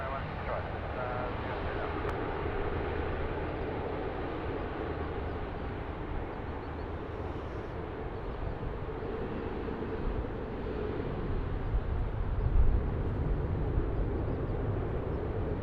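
A jet airliner rumbles steadily on the runway at Sydney Airport, a continuous broad engine roar that stays even throughout, with radio-style voices talking over it.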